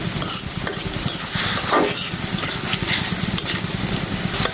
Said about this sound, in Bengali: এখন আমি মশলাটা খুব সুন্দর করে কষিয়ে নেব